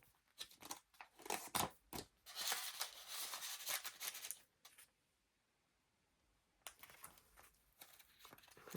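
A sheet of paper is folded in half to form a pocket for a junk-art journal. Soft crinkling and rustling come in close, quiet bursts, fall silent for a moment, then start up again.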